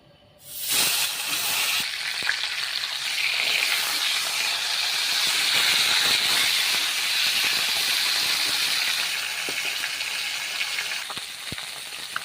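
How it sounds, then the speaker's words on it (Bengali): Parshe fish rubbed with salt and turmeric fry in oil, giving a loud, continuous hiss and sizzle that starts abruptly and stays steady for the whole stretch, with a few small pops. "মাছটা আমার ভাজা হয়ে গেছে, এক এক করে তুলে বাকি মাছগুলো আমি ভেজে নিচ্ছি এই তেলেই।"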